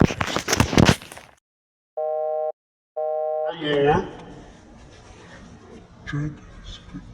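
A telephone in the Siren Head video game gives two short electronic ring bursts of about half a second each, near and clear after a pause of silence, followed by rustling and a voice talking.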